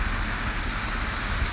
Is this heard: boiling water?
no